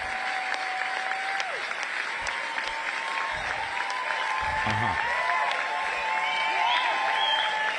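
Audience applause at the CPAC 2023 political conference, a steady wash of clapping from a crowd that carries through the whole stretch with some cheering mixed in.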